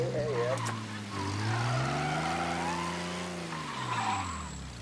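Car in Mafia: Definitive Edition driving and skidding on a wet, rainy road, a steady engine drone with rising and falling pitch under a long tire squeal, with someone talking over it.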